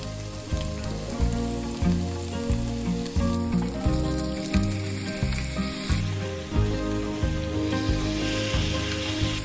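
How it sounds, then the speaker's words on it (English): Tofu pieces sizzle on an oiled cast iron grill, a steady close crackle of frying heard throughout, with soft music playing underneath. "Place the tofu pieces onto the grill and cook for about 4 to 5 minutes per side"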